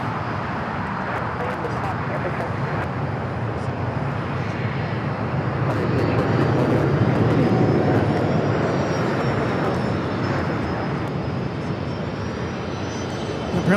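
An Emirates Boeing 777 heavy takes off from runway 25 left at Los Angeles International Airport, a steady broadband jet engine roar. The roar swells slightly midway, and a voice talks over it.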